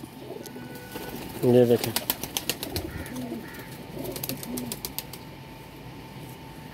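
Pigeons in a loft coo briefly and then flap their wings in a quick run of claps close by, while someone talks over them throughout.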